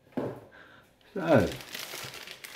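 Close crinkling of a plastic bag in two short bursts, with a voice speaking alongside.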